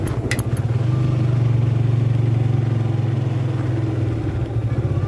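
A motorcycle engine idles and putters nearby with a steady low rumble near a toll road exit construction site, a brief metallic jingle at the start, then the engine slowly fades.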